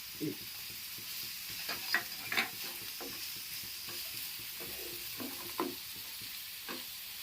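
Chopped green chillies frying in hot oil in a pan for aloo paratha, a steady soft sizzle with occasional crackles and a few stirring scrapes, close by and without talk.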